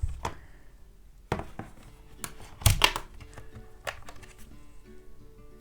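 Someone opens the packaging box of a Logitech K380 keyboard by hand: a few sharp clicks and soft rustles, scattered and quiet, with one slightly louder burst of handling partway through, and no talking.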